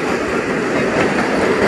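The Visakhapatnam–Secunderabad Vande Bharat Express rolls past close by with a loud, steady rumble and rhythmic wheel clatter that fills the whole stretch without any voices.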